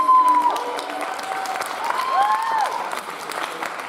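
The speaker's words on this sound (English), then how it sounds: "Can we give another round of applause for our music?" Audience applause at a keynote event following music performances, a full round of clapping with scattered whistles and cheers rising over it, steady throughout.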